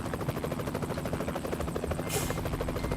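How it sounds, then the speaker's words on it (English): A helicopter in the trucking game American Truck Simulator drones steadily with a rapid rotor chop, loud and close throughout, with a brief brighter hiss near the end. "You shouldn't have gone down the road with the helicopter in it."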